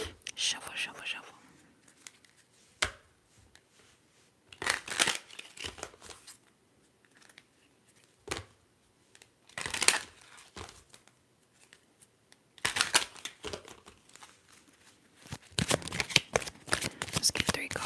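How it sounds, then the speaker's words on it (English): A symbols deck of cards in a tarot reading gets shuffled in several close, crisp bursts of riffling and crinkling, separated by quiet pauses, with soft whispered speech in places. "shuffle, shuffle, shuffle."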